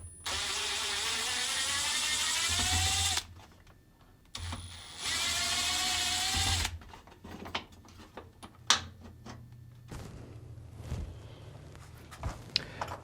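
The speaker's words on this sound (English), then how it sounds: "using a Phillips screwdriver, we'll remove the 2 mounting screws on the lid lock" A powered Phillips screwdriver backs out the lid lock screws on a Samsung top-load washer, model WA456DRHDWR/AA, in two loud, steady whirring bursts close by, followed by light clicks and handling knocks.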